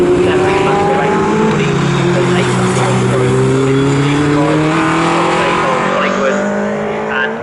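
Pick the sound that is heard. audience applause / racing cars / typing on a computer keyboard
racing cars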